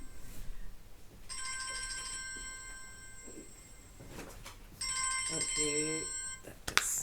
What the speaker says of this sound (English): I forgot to switch my phone off.